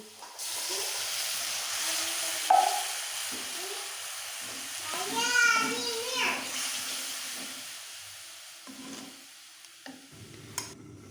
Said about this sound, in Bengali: এখন আমি পরিমাণ মতো পানি দিয়ে দিব